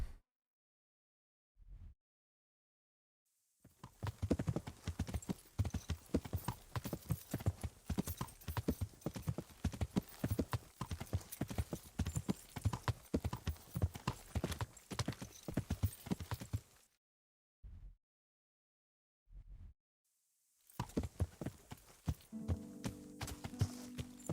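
Steady clip-clopping of horse hooves at a trotting rhythm in the video game Kingdom Come goes on for a long stretch, with a few isolated hoof knocks before and after, fairly close.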